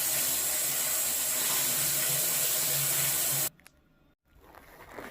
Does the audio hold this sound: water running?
yes